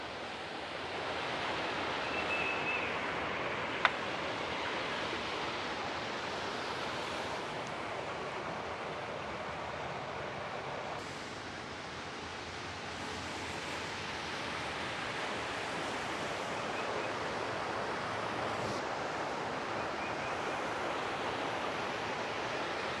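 A river flows past its banks beside a small pebble-built castle garden in Georgia, a constant broad rushing wash that stays steady throughout with no voices.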